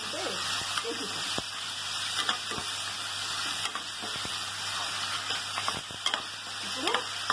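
Liver curry with tomatoes is stirred in a sizzling pan: a steady frying hiss runs throughout, broken by irregular scraping clicks of the spoon against the pan, close and moderately loud.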